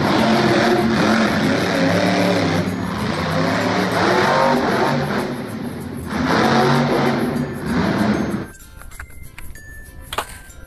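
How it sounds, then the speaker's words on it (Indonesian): An off-road monster truck's engine drones loud and close with rising and falling surges for most of the stretch, then cuts off abruptly near the end, leaving quiet background. "Di sini ada mobil off-road atau mobil monster."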